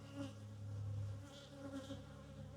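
Honey bees buzzing steadily around a spring beehive, a faint continuous drone with individual bees swelling louder as they pass close to the microphone.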